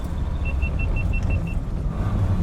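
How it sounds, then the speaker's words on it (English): A 1976 Lancia Fulvia S3 driving, with a low engine and road rumble throughout and a short run of evenly spaced electronic beeps over it near the start. "It's reminding me I've been driving this Lancia for quite a long time"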